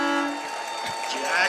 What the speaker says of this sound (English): And there goes the train horn.